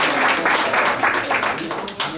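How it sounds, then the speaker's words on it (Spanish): Audience applause at a talk about Médicos Sin Fronteras, a steady wash of many hands clapping close by for about two seconds with slight swells, no voices over it. "Acá está un aplauso"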